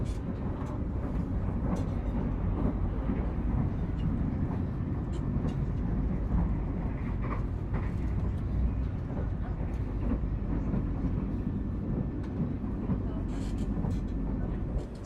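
The Imperial Jakarta extra passenger train runs at speed, heard from on board as a continuous loud rumble and rattle of wheels and carriage, steady throughout with faint clicks and creaks above it.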